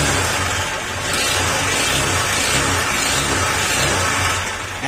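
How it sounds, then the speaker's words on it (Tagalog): A Honda Click 125 scooter engine revving steadily with a rough, abnormal rattling noise, loud and continuous throughout with no talk. "Ayan, rinig niyo yung tunog."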